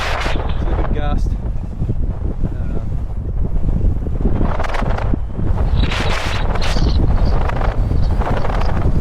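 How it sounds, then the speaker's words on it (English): Strong gusty wind roars across the microphone on open water at Pittwater during a wing foiling session on Naish ADX and DW Crossover gear, loud and continuous with rushing swells and brief bursts of water noise. "It's a good gust."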